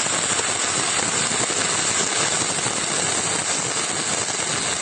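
Arc welding with an E6010 rod in the flat position, a steady close crackling hiss that holds evenly throughout with no pauses.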